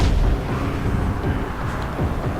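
Grenade blasts in the zombie game Dying Light rumble as a loud, sustained low boom with rolling debris and echoing tails, filling the whole moment without any talking over it.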